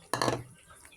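A brief metallic scrape and clink of a utensil stirring soup with moringa leaves inside a boiling pot, one short burst that quickly fades.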